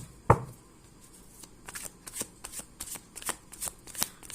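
Tarot cards shuffled by hand, a sharp riffle burst at the start followed by a string of quick soft flicks and taps, close and quiet.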